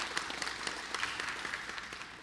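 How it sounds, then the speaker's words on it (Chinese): Warm applause from an audience of visiting university broadcasting students and council attendees at a city council session, a steady dense patter of many hands clapping throughout, moderately distant and unbroken. "请用热烈的掌声欢迎"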